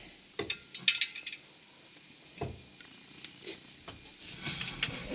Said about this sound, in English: Very hard to get in here with a torque wrench